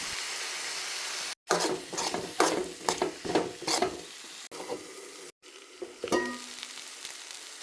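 Brinjal thoran being stirred in a pan: a series of scraping, clattering stirs over a soft frying sizzle, close and moderately loud, with brief silent gaps in between.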